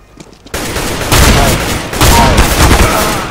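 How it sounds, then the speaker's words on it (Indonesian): Shotgun blasts in Counter-Strike: Global Offensive, a few loud, booming shots from about half a second on, each with a heavy low thump and a noisy tail, with game ambience between them. "It's a shotgun."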